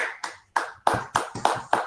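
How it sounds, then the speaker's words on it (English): Sparse clapping at a talk on artificial intelligence in printing: about seven separate, close claps in an uneven rhythm with short gaps between them, no voices. "Let's give him the huge round of applause."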